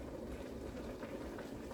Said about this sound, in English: Our meat and everything cooking.